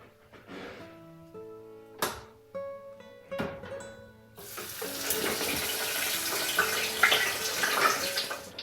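A batch of tater tots goes into avocado oil in a deep fryer, opening with a few clinks and clatters before a loud, steady bubbling sizzle takes over and holds without any talk.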